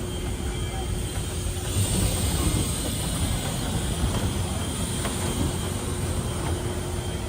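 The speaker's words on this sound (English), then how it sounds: "Please remain seated until the train has come to a full complete stop." An amusement park train ride rolls into its station at Camp Snoopy, a steady rumbling hiss of wheels and cars sustained throughout at moderate loudness, with no voices.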